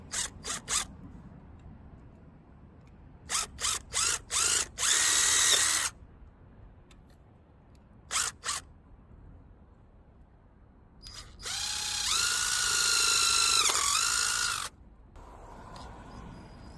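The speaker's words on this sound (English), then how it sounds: "We're going to be using a 1/4-inch drill bit, and we're just going to drill right through" Power drill boring holes with a 1/4-inch bit for a DIY flagpole, several short close whirring bursts, then a longer sustained drilling run with pitch dips as the bit bites, separated by quiet gaps.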